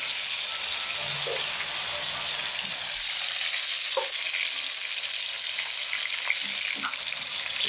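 Whole eggplants fry in hot oil, a constant loud sizzle with faint bubbling, clicks and light stirring knocks from the pan, near and unbroken, with no talking.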